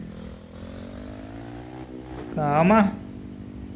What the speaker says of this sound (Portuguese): Pega a moto do gás.